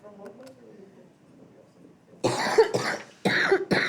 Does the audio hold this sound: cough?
yes